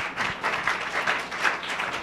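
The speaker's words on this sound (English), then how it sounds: "let's give another big round of applause for all the students who are in the audience" An audience at a scholars' bowl championship applauding steadily, a dense wash of many hands clapping at a moderate distance without letting up.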